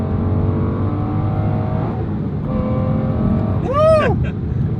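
An Aston Martin engine held at 3,500 RPM gives a loud, steady, deep droning rumble throughout, with a brief whoop-like exclamation rising over it near the end.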